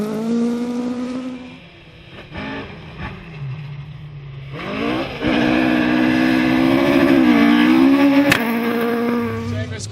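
A Ford Escort rally car on the BTRDA rally championship, with a punctured tyre, rolling out of a stage; a steady engine drone rises in pitch as it revs and pulls away nearby, with a brief sharp knock.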